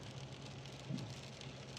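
Heavy rain falls steadily at night in Saudi Arabia, a broad, even wash of noise without a break, with a faint low rumble partway through and no talk.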